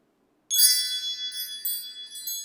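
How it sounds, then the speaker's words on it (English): Wind chimes ring out after a moment of silence, bright metallic tones shimmering and overlapping, struck again partway through. "Let's call in spirit with some wind chime time."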